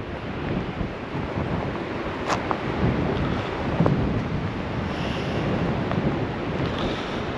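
A thin stream of water runs beside an almost frozen waterfall in winter in Banff National Park, a steady rushing wash mixed with gusty wind buffeting the microphone, with no voices.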